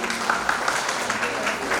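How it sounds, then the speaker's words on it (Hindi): An audience at a community jayanti celebration in Guna claps loudly, a dense burst of applause with sharper individual claps standing out, ending abruptly. "अगर आप सब बजाए जोरदार ताली"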